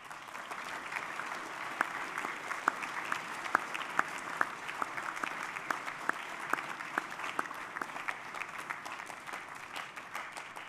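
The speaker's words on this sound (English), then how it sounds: "Give a final round of applause for Marco." A school assembly audience applauds the Junior Sportsman of the Year: a soft, continuous bed of crowd clapping with a few sharper, louder claps standing out nearby.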